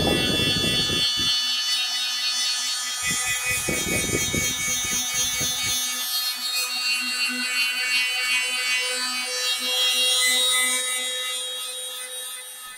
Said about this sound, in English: And back to the tool again for rubbing down time.